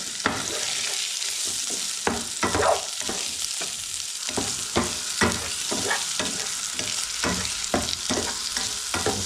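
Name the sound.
stirring seaweed into toasted tofu sizzling in a pan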